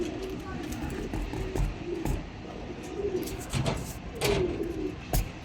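Teddy pigeons give several soft, rolling coos at intervals, close and fairly quiet, with occasional clicks and light background noise.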